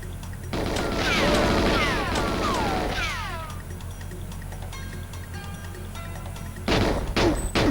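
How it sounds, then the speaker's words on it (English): Gunfire in the GoldenEye 007 Nintendo 64 game, Archives level, shooting enemies on a staircase: dense bursts of shots and whining ricochets for about three seconds, a quieter stretch of game ambience, then another loud burst at the end. "So I go back to this strategy of just shooting them all on the stairs"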